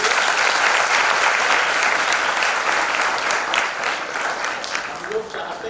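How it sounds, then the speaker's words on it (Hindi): An audience at a memorial tribute gathering applauds, a loud, dense burst of clapping that fills the room and tapers slightly toward the end. "एक बार और ताली बजनी चाहिए।"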